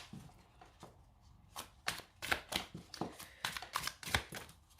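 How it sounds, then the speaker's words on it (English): Thin, flimsy Beauty of Horror tarot cards being shuffled by hand, a run of crisp papery riffles and slaps in quick bursts, close and fairly soft, no talking. "So let's see how these cards kind of shuffle."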